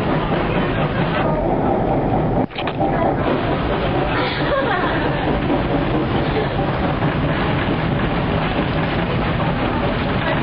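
Steady, loud rumble of a train rolling along the rails of the Zig Zag Railway in the Blue Mountains, with a brief dip partway through, then continuous rattling and clatter.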